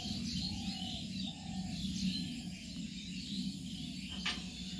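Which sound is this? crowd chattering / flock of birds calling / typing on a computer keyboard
flock of birds calling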